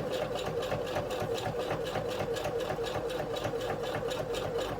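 Sewing machine top stitching a bag, running in a steady fast whirring drone with a rapid needle patter throughout, close and continuous with no speech.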